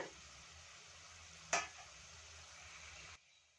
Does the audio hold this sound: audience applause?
no